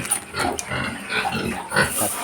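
Several pigs grunt and squeal continuously during feeding at a backyard pen, loud and close, with overlapping oinks and a higher-pitched squeal toward the end.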